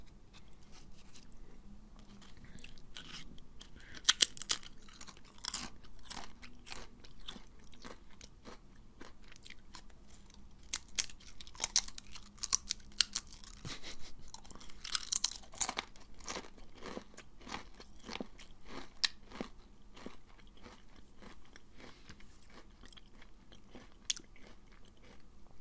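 Close, crisp crunching and chewing of Pringles chips with irregular loud bites scattered throughout, alone without talk.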